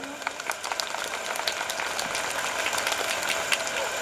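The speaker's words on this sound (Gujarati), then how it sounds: "તમે તાળીઓના ગડગડાટથી એમનું સ્વાગત કરી લો." An audience at a school opening event applauding to welcome a guest, a dense, moderate patter of many hands that swells slightly and carries on steadily.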